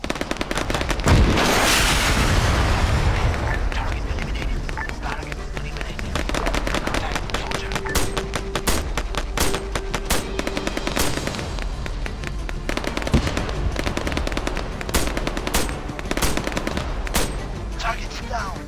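Gunfire erupts in an ARMA 3 ambush: a loud opening blast, then rapid bursts and sharp individual shots crackling nearby, with voices calling out over the firing.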